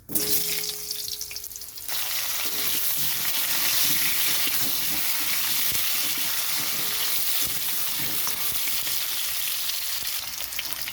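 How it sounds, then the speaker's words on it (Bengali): Potatoes with whole cumin fry in oil in a wok, a dense continuous sizzle close by with scattered stirring clinks, loud from start to finish after a brief quieter opening, no talking. "এখানে আলুটা একটু ভাজা হয়ে গেছে।"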